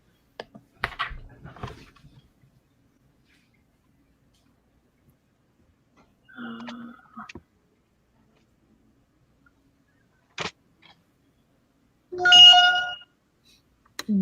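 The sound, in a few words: mobile phone ringing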